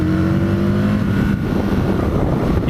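An Aprilia RSV Mille R motorcycle with its standard silencer rumbles and revs on the road, its deep engine note and intake noise rising and falling steadily, close and loud throughout.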